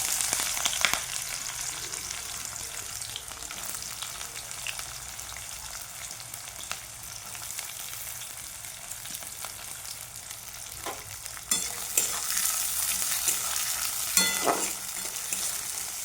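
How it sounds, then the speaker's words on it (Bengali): Chopped onion frying in hot oil with a little sugar for a goat meat curry, a continuous close sizzle with occasional stirring scrapes and louder bursts near the end, no voices. "বন্ধুরা ওই তেলের ওপরে একটু চিনি দিয়ে দিলাম দিয়ে পেঁয়াজ কুচোনা দিলাম"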